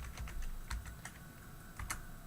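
Computer keyboard typing, a short run of light key clicks in small clusters, close and clear with no voice over them.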